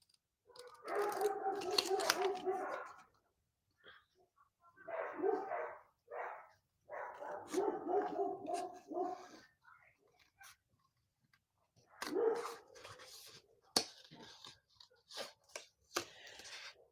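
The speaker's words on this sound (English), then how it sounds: "So that's why the dogs are going off." Several dogs bark indoors in clustered bursts of repeated, fairly close barks separated by short pauses, with sharp tapping clicks scattered through the final seconds.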